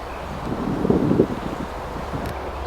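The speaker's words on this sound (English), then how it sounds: "It's a little bit blowy" Gusty wind blows across the microphone on an overcast countryside walk, a low rumbling buffet that swells briefly near the start and then settles into a steady outdoor rush.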